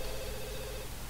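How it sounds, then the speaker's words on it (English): A telephone rings in The Sims 2, a short electronic tone over a hissy background, briefly and at moderate level, with no talk. "the phone is ringing"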